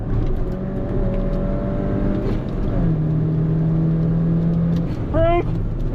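A 2013 Mini Cooper GP revs hard on a race track, its engine note rising and falling through shifts, with a quick rising blip near the end, heard from inside the car under a driver's talk.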